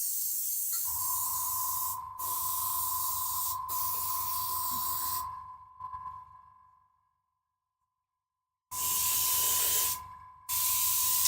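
An aerosol can sprays paint for model painting in long, loud hissing bursts of a few seconds each, with a steady tone and a low hum running underneath and a silent pause partway through.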